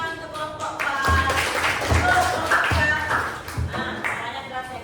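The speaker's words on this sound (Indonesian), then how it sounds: "Kita kasih tepuk tangan untuk kelompok PAS" A primary-school class claps for a pupils' group, a short run of rhythmic, fairly close hand claps in a unison pattern, with children's voices mixed in.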